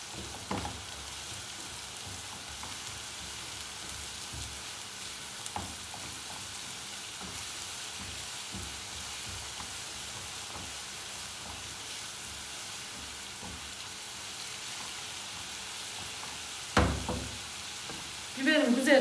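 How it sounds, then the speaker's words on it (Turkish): Green peppers fry steadily in a gözleme pan, giving a soft, even sizzle that runs throughout, with a couple of brief clatters near the end. "Biberim güzelce kızarsın."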